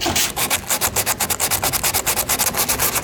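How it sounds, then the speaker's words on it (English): A fiberglass bumper is scuffed by hand with quick back-and-forth rubbing strokes, roughly six or seven per second, loud, close and steady, with nothing else heard. "you're just trying to scuff it up so that the resin and the fiberglass have something to adhere to"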